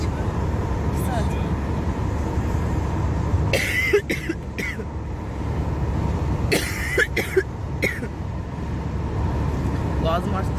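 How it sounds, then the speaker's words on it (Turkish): An ill person coughs in two harsh, rasping fits of several coughs each, close to the microphone. A steady low background hum runs throughout. "Boğazım artık tarih oldu öksürmekten."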